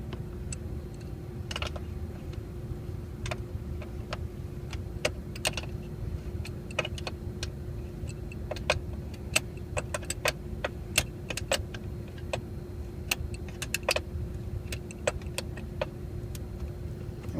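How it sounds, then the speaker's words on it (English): A wrench tightens the battery hold-down on a 2008 Suzuki Reno with quick, irregular ratcheting clicks and metallic ticks over a low steady hum, close and without talking. "I can go ahead and crank it down just a little bit with the wrench."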